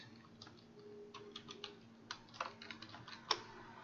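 Close, quiet keystrokes on a computer keyboard typing a folder name, a quick irregular run of taps with a few sharper clicks, over faint room hum.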